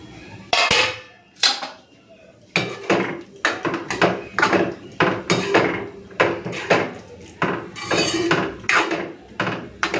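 Steel spoons and bowls clink and clatter repeatedly while ghugni is served into bowls in a home kitchen, with dense, close, irregular metallic knocks running throughout.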